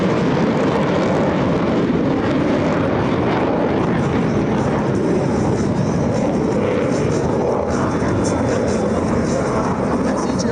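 US Navy Blue Angels jets at an air show give off a loud, steady roar with a broad rushing edge. It holds through the whole stretch, and a faint voice sits beneath it.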